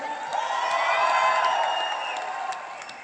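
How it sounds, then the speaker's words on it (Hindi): Conference hall audience at a leadership event cheering and whooping with applause, a sustained crowd roar with shouted voices rising and holding steady before easing slightly, heard at a distance. "एक बार जोरदार तालियां सबके लिए, जोर से"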